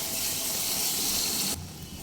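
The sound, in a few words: lukewarm water added to frying spice paste, sizzling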